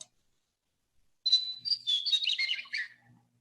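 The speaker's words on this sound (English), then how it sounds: "The western meadowlark, people like to say it's saying," A western meadowlark sings a single clear, fluting phrase of descending whistled notes, fairly close and alone against silence, lasting under two seconds.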